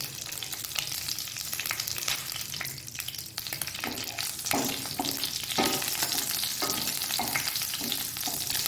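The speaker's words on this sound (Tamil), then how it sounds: "எண்ணெய் நல்லா ஹீட் ஆகிட்டு அதில் வந்து பட்டை கிராம்பு பிரியாணி எல்லாம் பூ எல்லாம் சேர்த்துக்கலாம்" Whole spices such as cinnamon, cloves and cumin with ripe green chili frying in hot oil for egg masala, a constant close crackling sizzle with scattered sharp pops and spatters throughout.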